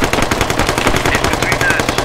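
Rapid automatic gunfire rattles loud and close without pause, aimed at a sniper in the video game Squad.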